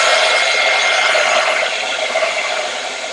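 A hair dryer blowing on a mixed media craft piece, a loud, steady close-up whoosh of air that eases slightly toward the end.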